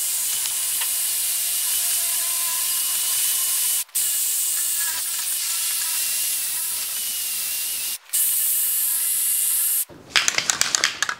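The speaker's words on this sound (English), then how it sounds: "Give her a shot of fluid film to help keep everything from rusting till we get finished and just lube everything up." Fluid Film rust protectant sprays onto a brass pump in a workshop as long, steady aerosol hisses broken by two brief pauses, ending with a quick run of rattly clicks.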